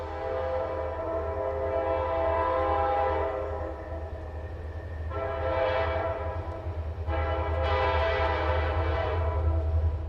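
A Reading & Northern freight train climbs a grade with a constant low engine rumble and rolling wheel noise. Horn blasts sound over it partway through, steady and moderately distant, with no voices.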